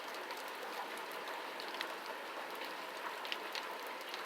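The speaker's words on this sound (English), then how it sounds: "It is raining." Steady rain falling outdoors, a dense even hiss of drops on surfaces with occasional sharper individual drips, constant and moderately close, with no voices.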